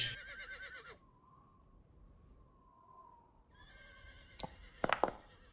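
A horse whinnies loudly at the start, then a quieter stretch follows before another shrill neigh and a few sharp, close knocks near the end.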